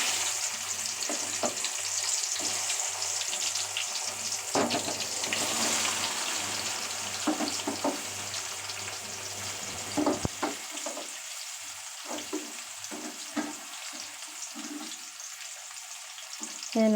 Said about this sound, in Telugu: ఇప్పుడు ఇందులో మనము కాకరకాయలు కట్ చేసి పెట్టుకున్న కాకరకాయలు వేసుకుందాం.